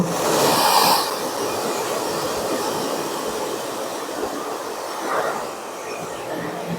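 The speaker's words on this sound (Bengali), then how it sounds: "দুদিক দিয়েই ড্রায়ার মারতে হবে যাতে তাড়াতাড়ি শুকিয়ে যায়" Hair dryer drying emulsion on a screen-printing screen: continuous close airy whoosh and motor hum, louder at first, then steady, with a brief shift in tone as the dryer moves, no voices.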